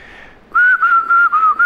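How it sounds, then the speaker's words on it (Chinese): A person whistles a steady pitched tone in four or five loud, close, even pulses after a faint opening note, with no talk. "口哨不算啊"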